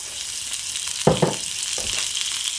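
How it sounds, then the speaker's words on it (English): Butter sizzles in a frying pan for honey beer pancakes, a loud, steady close hiss with a couple of brief thuds or clinks partway through. "Get a bit of butter on there."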